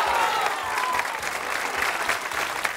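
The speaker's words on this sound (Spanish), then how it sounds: "Kevin, un aplauso para nuestro caballerito." A studio audience at a live variety-show contest claps for a young boy contestant, a full, sustained burst of close applause with a faint voice and some background sound beneath it.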